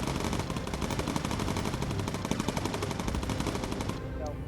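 Rapid machine gun bursts from an aircraft gunner firing at an enemy plane in the video game Bomber Crew, a dense continuous rattle of shots lasting about four seconds before cutting off.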